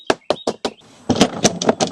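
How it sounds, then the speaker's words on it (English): A drill's dust drawer is tapped to empty it during a smart lock installation: four sharp, evenly spaced knocks, then a quick cluster of rattling taps, close and loud with no talk. "I'm going to go ahead and take this drawer here and empty out the dust"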